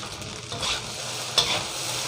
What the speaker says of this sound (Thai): ข้าวเย็นเหลือก็ต้องเอามาผัด